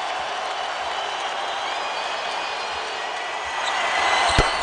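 Basketball arena crowd on its feet cheering Kobe Bryant's career-high scoring night, a broad continuous roar of applause and shouting that swells slightly near the end, with a sharp bang just before it fades.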